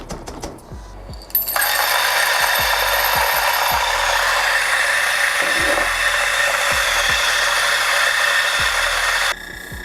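A DF64V V2 coffee grinder fitted with SSP burrs grinds espresso beans in one steady, loud, continuous whir lasting about eight seconds, close by, with faint repeated low knocks beneath and quieter handling before and after.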